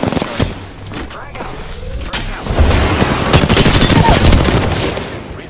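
Gunfire in a shooter video game, a shotgun among the weapons, with rapid bursts of shots building through the second half, loud and close, over game noise and background voices.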